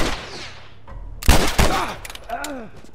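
A couple of sharp gunshots from The Last of Us Remastered on PS4 crack up close amid swooshing effects, followed by a voice speaking briefly near the end.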